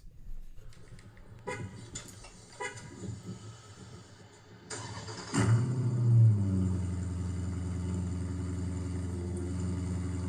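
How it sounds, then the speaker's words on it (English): A 2026 Dodge Charger with the Hurricane engine fires up and its active exhaust opens, moving from scattered clicks and mechanical noises into a loud, steady, close-up exhaust drone. "you'll hear the exhaust, like how the active mode kicks on and off"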